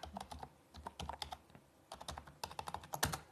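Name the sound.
typing on a keyboard to log in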